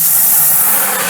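Water rushes from a hose into a rinse bucket for washing a 2020 Shelby GT500, a loud, steady, hissing spray with no pauses.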